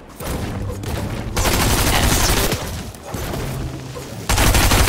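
Bursts of gunfire from the Fortnite video game rattle in rapid fusillades, several loud clusters separated by brief lulls, with no talking over them.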